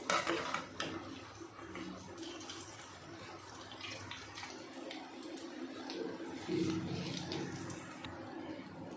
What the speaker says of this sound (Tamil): இதை நம்ம அப்பப்போ கொஞ்சம் கிளறி கொடுத்துட்டு இருக்கலாம்.